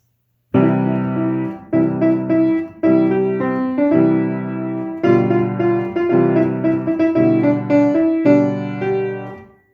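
Piano chords played in a steady sequence of sustained blocks, each struck together and held, ringing full and close with no voices.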